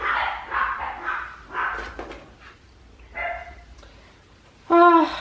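Several dogs at home bark in short, loud bursts indoors, a cluster of yips early on, scattered barks in the middle and one strong bark at the close, with quiet room tone between.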